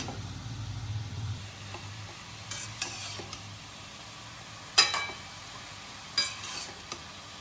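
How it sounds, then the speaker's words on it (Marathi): Carrots stir-fried in a pan for carrot halwa: scattered spatula scrapes and metallic clinks, a few sharper knocks, over a faint low hum and soft background, fairly quiet with no talking. "आता याला मी पाच ते सात मिनटं असं छान परतून घेते"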